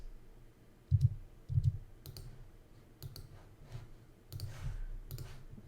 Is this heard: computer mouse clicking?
yes